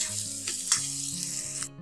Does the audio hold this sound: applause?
no